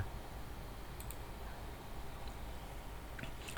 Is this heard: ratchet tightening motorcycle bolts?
no